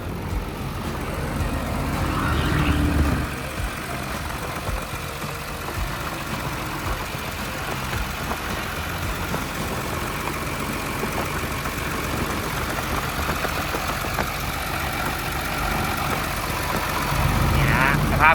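An IHI IC100-2 tracked dump truck's diesel engine idles with a steady, low rumbling drone, loud and close, while someone talks over it intermittently.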